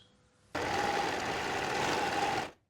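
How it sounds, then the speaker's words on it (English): A sewing machine runs an overlock or zigzag stitch along the outer edge of a blouse facing, a steady, close mechanical whirr that starts abruptly, holds for about two seconds and then stops. "you can do an overlock stitch or a zigzag stitch along the outer"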